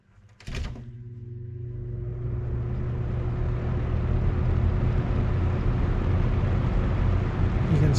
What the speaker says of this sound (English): so you can hear the motor start for all my fan guys